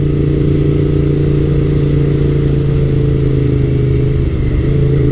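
A Honda VTR1000 F SuperHawk V-twin motorcycle running steadily at speed, a loud constant engine drone with wind roar, heard from on board with no voices.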